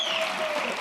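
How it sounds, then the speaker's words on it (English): An audience at a gala gives a short burst of clapping. The sound is dense but fairly faint and ends quickly. "Give them a big round of applause"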